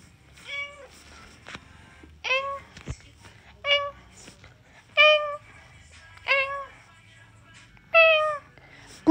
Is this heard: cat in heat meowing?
yes